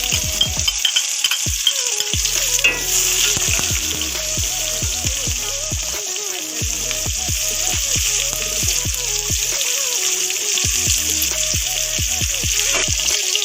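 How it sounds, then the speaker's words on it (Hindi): Chopped onions with green cardamom frying in oil in a pan, a steady sizzle broken by repeated clinks and scrapes of a spoon stirring, fairly close and with no voices. "लाइट ब्राउन होने तक हम प्याज को अच्छे से फ्राई कर लेते हैं।"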